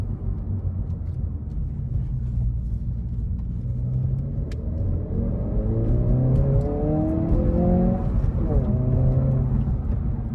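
A 2022 Honda Civic Si engine rumbles and revs, rising in pitch through a few accelerations, close and throaty, with some talk underneath.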